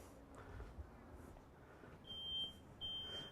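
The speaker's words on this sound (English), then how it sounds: "the reason you notice that that photoelectric alarm has got a different sounding horn on it" A photoelectric smoke alarm inside a smoke-filled aquarium test tank sounds its horn in two piercing, steady beeps, each lasting about half a second, over faint background hiss.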